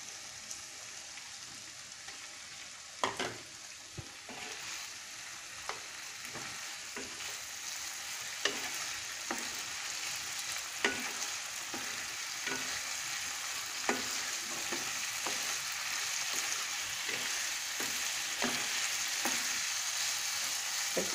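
Round tomato slices with spices and potatoes sauté in a pan, a continuous bright sizzle carrying scattered stirring clicks and scrapes throughout, close and steady with no voices.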